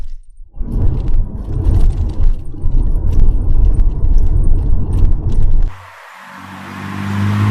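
A Mazda RX7 FD 3S drives over a rough stretch of road with a loud low rumble and constant rattling and knocking from the cabin, easing to a quieter steady hum near the end.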